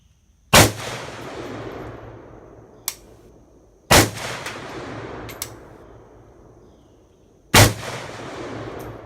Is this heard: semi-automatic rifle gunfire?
yes